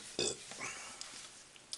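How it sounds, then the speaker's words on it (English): A short, close burp after drinking soft drinks comes early, followed by quiet breathy mouth sounds. "You gotta burp when you drink 3."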